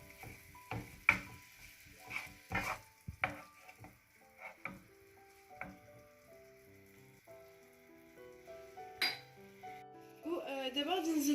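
A utensil stirs bolognese meat filling for lasagne in a pot, with a series of clinks and scraping knocks against the pan alongside soft sizzling, while background music plays.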